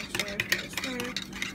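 A spoon stirs a lemon juice drink in a glass, clinking rhythmically against the sides in quick repeated taps, close and fairly quiet.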